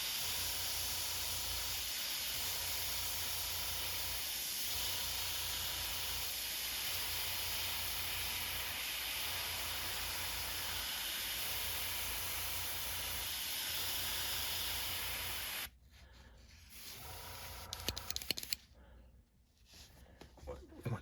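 Airbrush hissing steadily as paint goes onto a leopard trout swimbait lure, a continuous close spray with slight pulsing that cuts off abruptly near the end, leaving faint handling noises.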